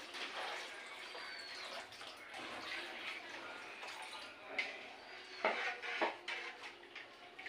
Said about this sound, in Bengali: এই নারকেল দুধটা দিয়ে দিচ্ছি।